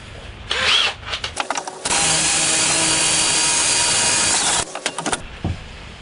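A power drill whirs in a short burst, then grinds steadily through metal on a Zundapp Bella scooter badge for several seconds before stopping, with a few brief revs at the end.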